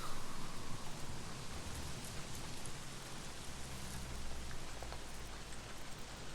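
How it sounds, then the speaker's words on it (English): Steady rain pours down with a constant hiss, mixed with a low rumbling wind, continuous and fairly loud with no voices, from the video game Days Gone. "Wind, rain. Oh, okay."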